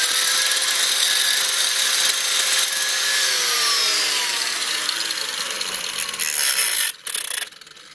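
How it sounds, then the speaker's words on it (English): An angle grinder cuts a hole in a BMW shock tower, a loud, continuous high-pitched metal grinding whose pitch slowly drops under load, then briefly cuts out before spinning up again. "Take an angle grinder, and in this fashion"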